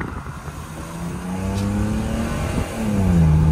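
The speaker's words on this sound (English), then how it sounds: "As y'all can hear, I need my exhaust done." A BMW E36 engine revving through a worn exhaust, nearby and loud, with rising and falling pitch sweeps as the throttle is blipped, building to a stronger rev at the end.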